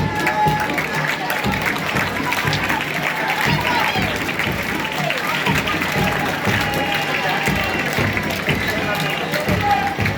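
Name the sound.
stadium audience applauding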